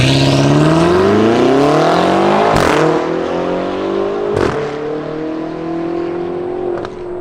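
A BMW X6 M (F86) with quad exhaust, straight pipes and a cat delete pulls away loud and close. It revs up through sharp gear changes with a deep, crisp, rising exhaust note and no talk over it.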